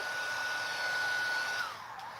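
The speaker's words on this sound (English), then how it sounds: "Now literally as I pull my heat gun away" Heat gun blowing hot air onto embossing powder, a steady close whoosh that drops and fades briefly at the end as the gun is pulled away.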